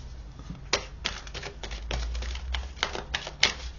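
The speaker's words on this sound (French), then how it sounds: "Je vais prendre une carte là" A card is drawn and handled from a deck, heard as a run of sharp, dry clicks and flicks in quick irregular succession, close and moderately loud, with no speech.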